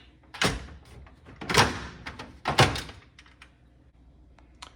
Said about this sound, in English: We're gonna slide this vent to the left and then pull out towards you.